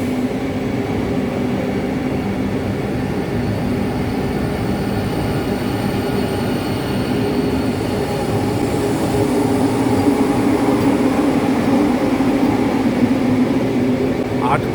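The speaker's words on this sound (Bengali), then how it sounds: "26651 KSR Bengaluru Ernakulam junction Vande Bharat express ছেড়ে দিল ইরোড" A Vande Bharat Express, an eight-coach saffron KSR Bengaluru to Ernakulam service, pulls out of Erode Junction station with a loud, steady rumble and wheel roar that swells slightly toward the end.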